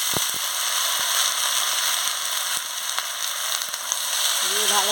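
Snake gourd and raw kundri being stirred while frying in a pan give a steady broadband sizzle throughout, with a few sharp clicks from the spatula scraping the pan.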